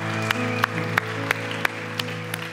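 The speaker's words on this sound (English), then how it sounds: "Can we give these three individuals that raised their hand a huge round of applause?" A church congregation claps over a sustained organ-like musical drone, with distinct sharp claps landing in a regular rhythm roughly every third of a second, fairly close and moderately loud.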